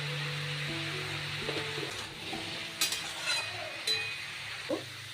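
Cucumber pieces sizzle steadily in a hot pan, with a few sharp clinks and scrapes of stirring; no voices.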